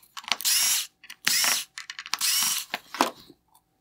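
Three T10 screws being driven out of the diffuser on the matrix LED drive unit of a 2020-2022 Porsche Taycan LED headlight, heard as short bursts of close ratcheting, whirring motor noise separated by brief pauses.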